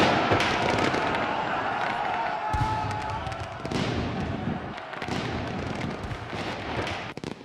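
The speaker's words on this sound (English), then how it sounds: "the loud sounds of rifles rang out and clouds of smoke appeared everywhere" Rifle volleys crackle through a battlefield ambush in the Battle of Oriskany, with sharp shots and dense popping bursts scattered over a continuous rumbling din, loud and close throughout.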